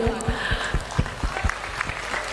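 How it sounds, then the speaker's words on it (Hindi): Clapping from a gathered crowd at a Hindu unity march event, a series of distinct, close, fairly loud claps in an uneven rhythm with some background murmur. "तो आप लोगों को भी मैं ताली मारती हूँ"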